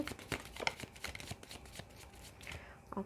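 Tarot cards are shuffled by hand in quick, soft riffles and slaps that come in uneven bursts, close but fairly quiet.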